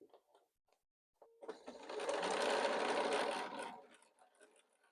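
A sewing machine runs a single burst of about two seconds across nested quilt patchwork seams, close and clear, with soft handling clicks of fabric before and after.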